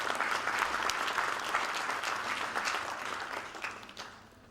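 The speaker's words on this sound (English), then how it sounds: "And I really think they deserve a round of applause for carrying this out." Moderate applause from a conference audience of managers and leaders, a fairly even spread of clapping that thins and softens toward the end.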